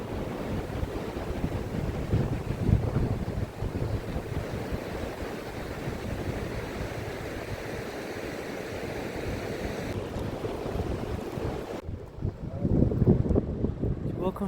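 Sea waves washing onto the beach at Dieppe, a steady rushing surf with wind buffeting the microphone, continuous and fairly loud, swelling again near the end.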